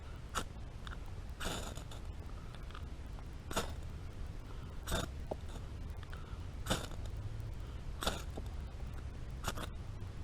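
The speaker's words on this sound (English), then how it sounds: "Grind up some shavings on there." Shavings are scraped onto a small piece of paper towel outdoors to start a campfire, making a series of sharp, irregular scraping strokes, close and fairly quiet, with no talk.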